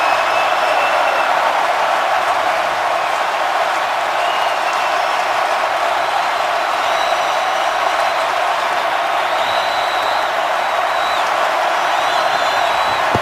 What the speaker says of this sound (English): now this crowd is in a frenzy